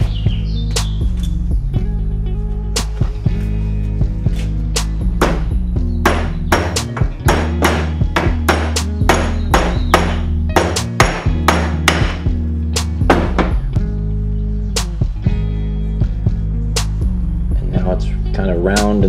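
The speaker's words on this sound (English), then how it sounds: "now I can just hammer that down flat and I'll have a nice round edge on the inside" Metal battery hold-down on a GS550 cafe racer build hammered flat, a long run of loud, close, rapid ringing blows with brief pauses, over a steady low hum, with faint bird chirps in the background.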